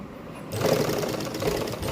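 A sewing machine stitches piping onto a lined suit, starting after a short pause and running as a steady, fast, close mechanical whirr through the rest of the clip.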